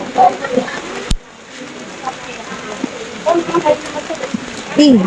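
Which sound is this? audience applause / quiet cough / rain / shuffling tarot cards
rain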